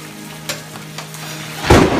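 A heavy rainstorm in Galicia along the Camino de Santiago, turning into a hailstorm: steady hissing rain with a few sharp knocks, then a sudden loud surge of pounding near the end.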